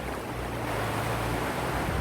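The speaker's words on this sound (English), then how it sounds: "Just started pouring down with rain." Heavy rain pours down steadily in a garden, a dense continuous hiss with a low rumble of wind buffeting the microphone, close and loud with no other sounds.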